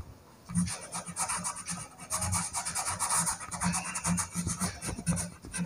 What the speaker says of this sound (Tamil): இப்போ நான் பிளெண்ட் பண்ண போகிறேன்.